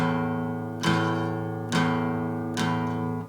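A guitar plays two notes together, struck cleanly as a single chord three times at a steady pace, each attack ringing out close and unaccompanied.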